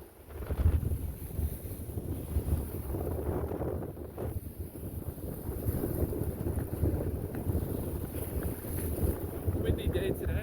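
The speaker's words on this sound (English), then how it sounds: "Windy day today." Strong wind buffets the microphone in a continuous roar on lakeside rocks, with gusts rising and falling and faint water sounds beneath.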